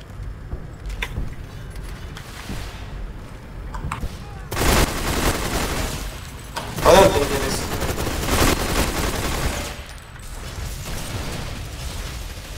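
Gunfire in a multiplayer shooter video game, with rapid bursts of automatic fire and loud clustered shots over mechanical clicks while players talk.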